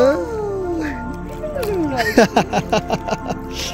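A cat meows several times nearby, with drawn-out rising and falling cries followed by a quick run of shorter calls, while people talk in the background.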